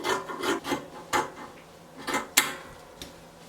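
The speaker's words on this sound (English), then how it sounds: "I'll go ahead and cut it" Scissors cutting Ankara fabric for a poncho blouse, heard as a series of short, separate crisp snips and rustles, close and fairly quiet, with no talking.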